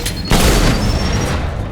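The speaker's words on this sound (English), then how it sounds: "Let's use my sniper." A single loud sniper rifle shot in Mass Effect 2 Legendary Edition cracks out sharply and booms, leaving a long, steadily fading tail of reverberating noise.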